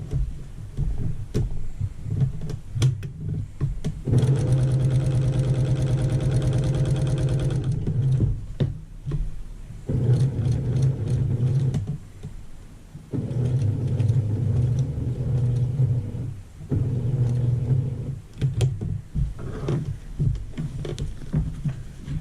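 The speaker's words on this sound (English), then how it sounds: "I'm sewing a 1/4 inch seam all the way around." A sewing machine stitches a quarter-inch seam around a quilted table runner, running in loud, steady humming bursts of several seconds each, with short pauses and quieter ticking handling sounds between the runs.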